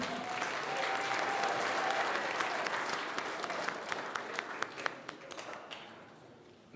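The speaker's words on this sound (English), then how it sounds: "All right, another huge round of applause." Crowd applause at a Queensland boxing hall of fame awards night, sustained steady clapping from many hands that gradually thins and fades toward the end, leaving a few scattered claps.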